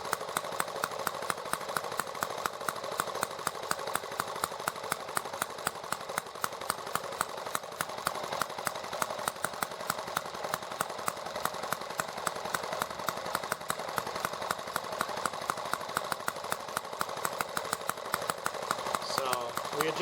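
A small engine runs steadily while its carburetor is adjusted toward a leaner mixture. It gives a fast, even stream of firing pulses at a constant, moderate level throughout.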